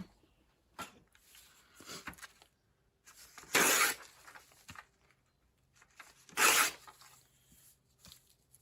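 A paper label for a lapbook journal tears out in two short, loud ripping bursts, surrounded by quieter paper handling and small rustles close to the microphone.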